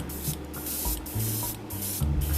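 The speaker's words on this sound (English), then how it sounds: "just a few more sprays around the top there" Spray primer hisses from a can onto Gundam plastic model parts in several short, close bursts separated by brief pauses.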